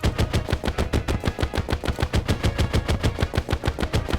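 Rapid automatic fire from an Uzi in the Terraria video game, a steady fast stream of loud, evenly spaced shots lasting the whole stretch with no talking.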